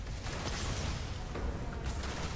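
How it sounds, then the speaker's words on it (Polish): A grenade explodes in the video game Starfield: a sustained, broadband roar of blast and debris that stays fairly even in level, with no talk over it. "Fajny wybuch granatu nawet"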